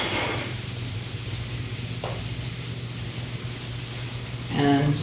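Hash fries in butter in a warm pan with a soft, steady sizzle that runs throughout, with a brief scrape midway and a clink of utensils near the end.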